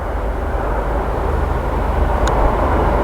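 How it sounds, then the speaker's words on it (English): A jet aircraft passes overhead at the RIAT Fairford airshow in the evening, a steady, broad, loud roar with heavy low rumble that holds evenly throughout, with no voices. "Here comes the jet."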